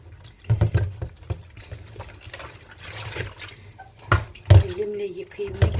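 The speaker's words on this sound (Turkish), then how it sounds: "Hemen şunu da elimle yıkayayım." A dish being hand-washed in a home kitchen, with water splashing and dripping in short bursts around a running tap, close and moderately loud, with talk heard during it.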